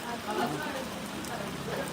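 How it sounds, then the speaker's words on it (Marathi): Monsoon rain falls steadily on a cloudy day in rural Maharashtra during sowing season, a soft continuous patter that stays faint and even, with no clear voice over it. "सध्या वातावरण पण खूप ढगाळ आहे आणि पाऊस पण पडत आहे"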